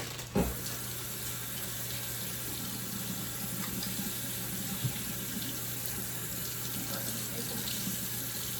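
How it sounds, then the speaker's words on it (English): Hands washed under a running kitchen tap, a steady rush of water into a sink with a brief splash near the start, fairly quiet and without talk. "I'm going to wash my hands here."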